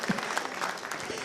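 A crowd at a televised semi-final music contest applauds, a short, busy burst of clapping and cheering mixed with voices, heard at moderate distance.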